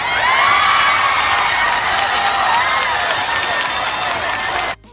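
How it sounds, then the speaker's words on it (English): Applause with cheering and whoops rolls for about five seconds at steady, full loudness, then cuts off abruptly at the end. "Let's give a round of applause."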